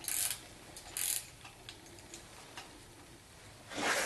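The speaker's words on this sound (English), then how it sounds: "I'm going to have to use a different wrench" A wrench works the rocker arm adjusting nuts on a 1976 Corvette engine, with a few close, short metallic clicks and ratcheting bursts at the start, middle and end, separated by quiet pauses.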